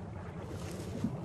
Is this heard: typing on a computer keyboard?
no